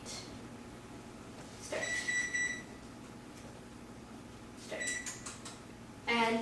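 Electronic beeps from an oven control panel as preheat is set to 350 degrees Fahrenheit, two short clusters of bright tones a few seconds apart over a quiet kitchen hum, with a brief spoken word.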